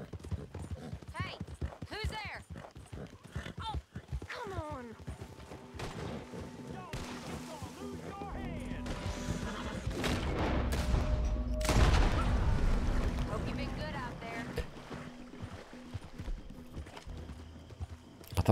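A weak, non-purebred horse's hooves clip-clop at a steady trot in Red Dead Redemption 2, continuous and fairly close, with a few booming bangs midway and talking over the hoofbeats.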